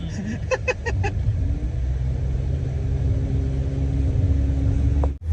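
A car engine rumbles loudly and steadily up close, a low droning roar with a few short beeps early on and a brief cut near the end.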